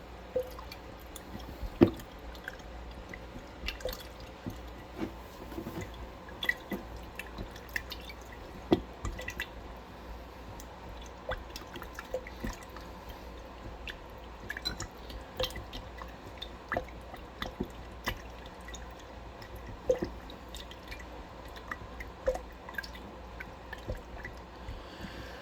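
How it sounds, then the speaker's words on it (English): Switchel (haymaker's punch) ingredients being stirred with a little water in a container: soft, quiet liquid swishes and small scattered clinks and drips, steady throughout without talk. "And we're going to stir."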